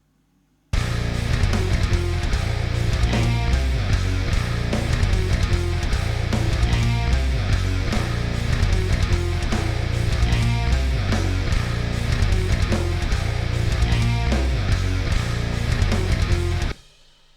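A djent riff on seven-string guitar with drums in polymeter plays loud and dense throughout, with heavy palm-muted chugs and a snare landing in shifting places, starting abruptly and cutting off near the end, with no talk.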